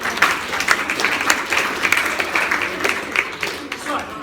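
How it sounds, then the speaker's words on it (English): A live audience applauds for a first winner at a talk, a loud burst of clapping that starts with distinct claps and settles into a steady patter. "Round of applause for our first winner of the day."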